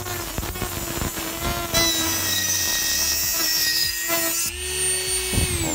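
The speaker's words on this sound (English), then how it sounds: "Let's fire up the Dremel." Up close, a Dremel rotary tool sands the edges of a prop build piece for a Star Wars costume, giving a continuous high-pitched whine. The pitch wavers as the tool bites into the material and the load changes. There is no talking.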